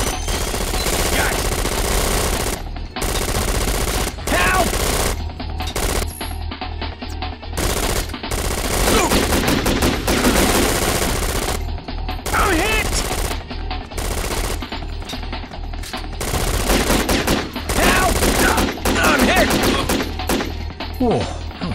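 Video game machine gun fire, loud sustained bursts of rapid automatic shots repeating across the whole stretch with brief gaps between volleys, and a voice calling out among them.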